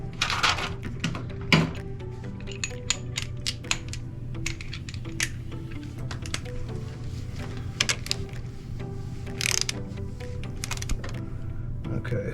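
Wrench clicks and metallic taps while tightening the clutch nut on a Honda CRF100 during a Takegawa clutch install, short sharp ticks over a steady low engine-like hum in a garage.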